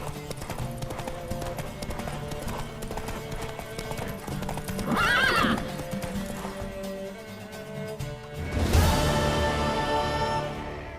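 Rapid hoofbeats of a galloping horse in The Witcher 3 video game drum steadily, broken by a loud neigh midway and another whinny near the end.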